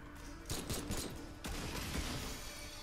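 Bursts of gunfire from the video game Remnant 2 sound in rapid clusters, sharp repeated shots over a faint, noisy background, with no speech.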